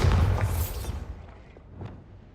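A Bombarda spell explodes in the video game Hogwarts Legacy with a loud, booming burst up close. The blast decays into a rumbling tail, and a smaller pop follows near the end.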